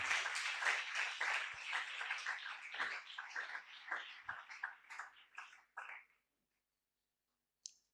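A church congregation applauds in a sustained burst of loud, dense clapping that thins into scattered claps and stops, followed by a single late clap.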